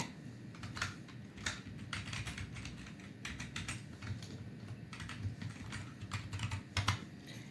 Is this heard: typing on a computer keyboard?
yes